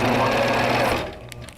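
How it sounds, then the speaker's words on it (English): A longarm quilting machine on a frame stitches down a quilt's edge in a loud, steady, close mechanical whir that runs for about a second and then stops, followed by faint clicks. "I'm going to very quickly just stitch down this side because I'm here"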